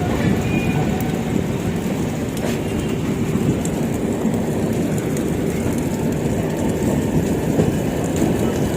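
The Grand Trunk Express passes on the rails with a loud, continuous rumble and rattling wheel noise, steady from start to finish.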